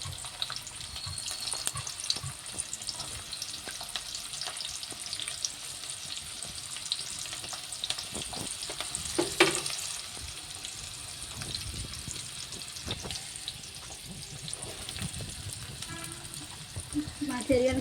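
Thinly sliced onions frying in oil in a pan while cooking egg curry, a continuous soft sizzle with stirring scrapes and occasional clatter throughout, under quiet background sound.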